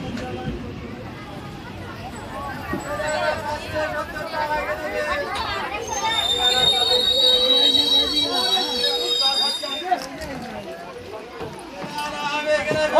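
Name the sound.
train arriving at a railway station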